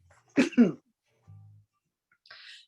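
One sharp double cough during a public commission meeting, close and abrupt, followed by brief quiet sounds and a faint hiss.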